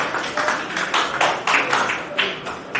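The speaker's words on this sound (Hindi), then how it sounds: "चाहूंगा एक बार तालियां हो जाए।" Applause from an audience at a poetry festival in Palam, Delhi: a fairly close, steady wash of many hands clapping that swells in repeated bursts and carries on without pause.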